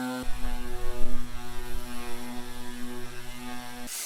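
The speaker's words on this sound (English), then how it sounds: "it was up to me to sand and paint the new furniture" A power sander works over new kitchen furniture during a home renovation, starting abruptly and holding a steady humming drone for a few seconds before cutting off.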